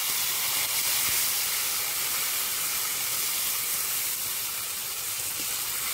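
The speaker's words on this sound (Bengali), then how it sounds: "এবার দিয়ে দেব আদা বাটা, জিরে বাটা, শুকনো লঙ্কা বাটা, মশলাগুলো জল দিয়ে দেব।" Ginger, cumin and dried chilli pastes thinned with water hit a hot pan for a fish curry, giving a steady loud steamy hiss and sizzle that holds without a break.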